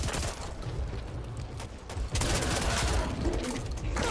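Sustained gunfire from the zombie shooter Back 4 Blood, dense overlapping automatic bursts that run steadily throughout and grow heavier and louder in the second half, with no talk over them.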